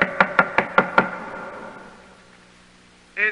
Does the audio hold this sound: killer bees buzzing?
no